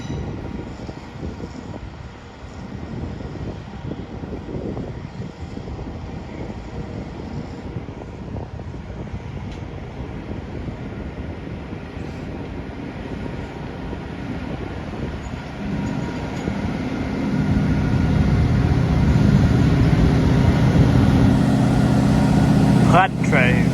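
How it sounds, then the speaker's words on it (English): A locomotive-hauled train rolls through a mainline station at Peterborough, a low rumble building steadily and growing louder toward the end, with someone talking over it for much of the time. "Now here's a better locomotive,"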